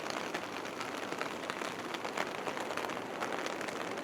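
Heavy typhoon rain pours onto a flooded melon field, a dense, steady hiss of countless drops with faint patters, continuous and fairly close with no talk.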